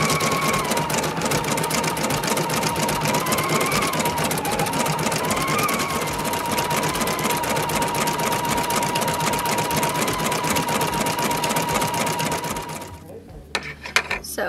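A PFAFF Creative Icon embroidery machine stitches the first color of a design, a fast steady mechanical whir and needle hum that runs continuously for about thirteen seconds before stopping abruptly, with a few faint clicks after.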